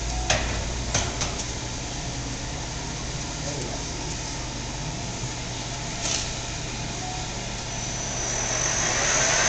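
A Clausing Metosa engine lathe runs in its high speed range, a steady mechanical hum with a faint whine and a few light clicks, swelling slightly toward the end.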